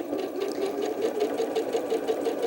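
A sewing machine stitching quilt block pieces together without pins, a steady fast rhythmic whirring and needle clatter, close and alone.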